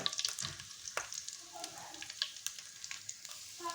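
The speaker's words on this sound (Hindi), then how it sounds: "घी हमारा अच्छी तरह से गर्म हो चुका है। अब मैं डालूँगी इसमें अपना चिकन।" Chicken sizzles in hot ghee for a white chicken karahi, with a steady crackling fry and occasional sharp pops and spatters that stay fairly soft.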